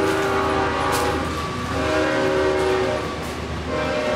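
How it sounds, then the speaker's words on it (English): A train passes close by near an abandoned school, its horn blaring in sustained steady tones over the loud rumble and rattle of the cars, with no talking. "There's the train right there."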